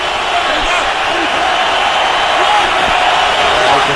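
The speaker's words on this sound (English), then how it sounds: "You can hear the San Diego portion of this crowd." San Diego stadium crowd at a Chargers–Bengals NFL football game, a steady loud roar of cheering fans filling the whole stretch without breaks.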